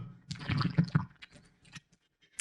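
Someone sips from a smoothie cup through a straw, giving close, wet slurping and gurgling bursts that stop after about a second, followed by faint clicks.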